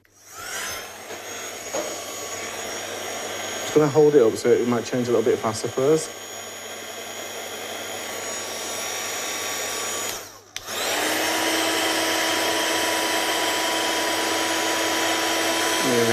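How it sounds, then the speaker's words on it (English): A heat gun blowing hot air over powder in a craft setting, a steady whooshing drone under a voice, cutting out briefly before returning louder and harsher on its turbo setting. "And we'll bring the heat gun back in."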